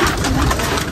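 Pigeons settling into a new home give a soft, continuous cooing murmur close by, steady and low throughout with no speech.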